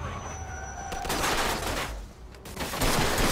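Close gunfire from Mafia II: heavy rapid shots and bursts overlap with crashing impacts, loud and sustained throughout, with no clear voices.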